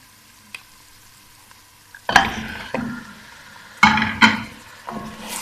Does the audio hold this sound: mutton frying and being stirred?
yes